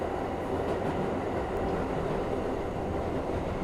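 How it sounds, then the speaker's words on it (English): A New York City subway N train running, a loud steady rumbling roar of wheels and car noise heard from on board or close by, continuous throughout. "the most electrifying train in all of New York City Transit"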